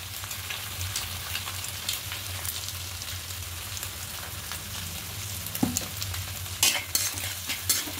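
Egg and chopped tomato sautéing with salt in a pan, a steady close sizzle under repeated spatula scrapes and stirring clatter, with a few sharper knocks toward the end.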